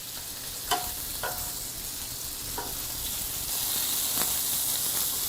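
Pork belly sizzles on a hot pan in a steady close hiss, broken by a few sharp clicks and taps, with the frying growing slightly louder toward the end.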